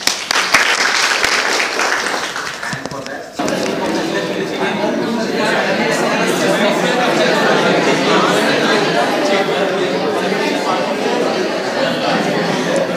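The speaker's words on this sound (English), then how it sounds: "Give him a big clap." An engineering college audience in Kerala breaks into loud sustained applause for a teacher's award, the clapping continuing strongly for several seconds with some chatter mixed in.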